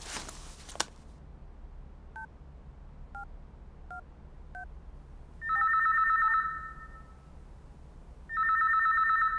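Several short dialing beeps are followed by two long, warbling telephone rings heard through a handset, with quiet background hum between them.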